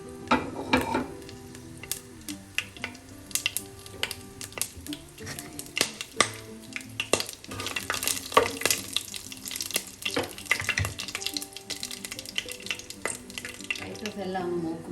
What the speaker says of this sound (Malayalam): വെളിച്ചെണ്ണ ഒന്ന് ചൂടാകുമ്പോൾ നമുക്ക് എടുത്തു വച്ചിരിക്കുന്ന സ്പൈസസ് എല്ലാം ചേർക്കാം.